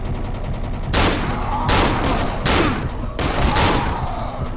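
Four loud, sharp gunshot blasts from the video game Cry of Fear, spaced about a second apart, each with a short ringing tail.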